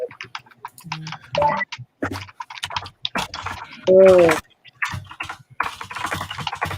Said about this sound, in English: He's typing very loudly.